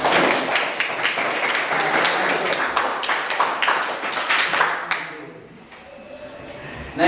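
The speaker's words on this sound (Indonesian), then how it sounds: "beri aplaus yang meriah untuk kelompok ini" A group of students gets lively applause in a classroom, dense clapping from many hands sustained for about five seconds before thinning out.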